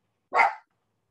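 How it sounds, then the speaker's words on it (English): A dog gives a single short bark from somewhere indoors, sharp and moderately loud, with silence before and after. "And I did tell my people here to put their dogs outside."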